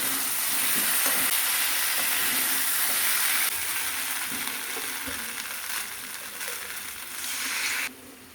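Potatoes and peas with tomato ketchup fry and sizzle steadily in a pan, close and loud, with intermittent scraping and stirring throughout and no talking.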